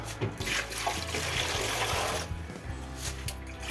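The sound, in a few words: cold tap water running over boiled eggs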